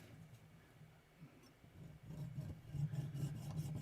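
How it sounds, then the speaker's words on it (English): A thin-bladed jeweler saw cuts through soft pot metal with quiet rhythmic rasping strokes that grow louder and faster in the second half, close to the microphone. "one of the advantages of using a jeweler saw is it's just a thin blade"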